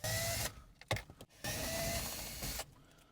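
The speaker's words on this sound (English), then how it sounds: "the next step is just to use the T20 to remove the two screws" A motorized whirr, most likely a power driver with a T20 Torx bit, runs in two bursts with a short clatter between them while two screws come out of a BMW i3 display.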